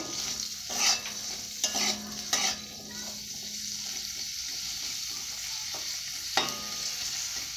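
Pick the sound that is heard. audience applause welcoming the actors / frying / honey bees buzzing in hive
frying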